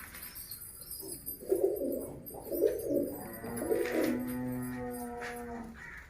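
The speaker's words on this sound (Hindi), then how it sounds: "बाकी कुछ कबूतरों ने अंडे भी दिए हुए हैं" Pigeons coo nearby in soft, throaty rolling phrases, several calls overlapping, with faint rustling in the background.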